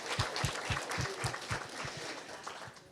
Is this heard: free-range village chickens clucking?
no